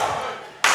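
A wrestling crowd roars in a short burst, rallying behind a wrestler named Blaq. The noise is loud and broad, eases off briefly, then swells again sharply at the end.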